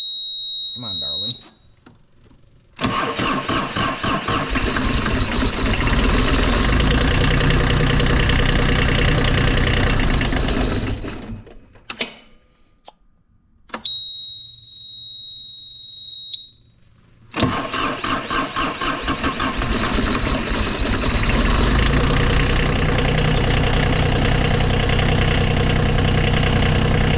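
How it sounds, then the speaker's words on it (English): An engine cold-starts after a long crank, catching with a loud roar, briefly dropping out, then firing again into a steady rough idle; a high electronic beep sounds twice in between. "Me and cold starts on camera do not go well together."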